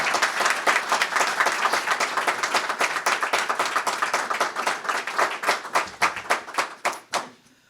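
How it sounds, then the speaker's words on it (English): Sustained round of applause from an audience at a press conference for a downtown hotel and conference center, dense steady clapping that thins into a few scattered claps before ending. "Can we give them a round of applause?"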